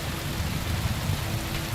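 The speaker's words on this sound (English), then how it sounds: "A bit of rain never hurt anyone." Steady rain falls in the medieval world of Kingdom Come Deliverance II, a dense, even hiss that runs unbroken throughout, with no voices over it.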